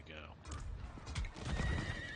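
A horse in the video game Diablo IV gives a whinnying neigh, with hoof clip-clops and game sounds following, heard up close and fairly quiet.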